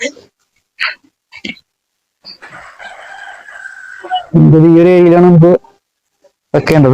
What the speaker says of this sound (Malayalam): ഡിസ്റ്റർബൻസ് കാണും വീഡിയോയിൽ, കോഴിയുടെ ഒക്കെ ശബ്ദം കേൾക്കാം.